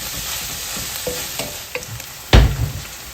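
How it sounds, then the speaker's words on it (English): Parsley roasting in coconut oil for a crab curry, giving a steady soft sizzle with light stirring scrapes and a louder burst of frying noise near the end. "So I let the parsley roast in the coconut oil for a good 3 minutes."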